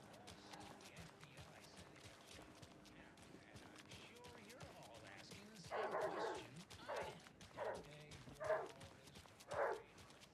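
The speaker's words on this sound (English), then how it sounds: "Where's the dog? I can hear one barking." A dog barks several times in short separated bursts at a moderate distance in Alan Wake 2 on PS5, over a low background murmur.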